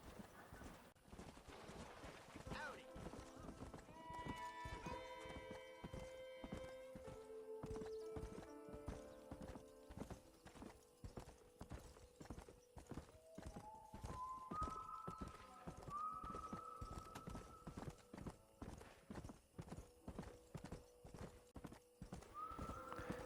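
A horse galloping across the barren landscape in the video game Red Dead Redemption, steady rapid hoofbeats throughout with a few rising whinny-like tones layered over the rhythm.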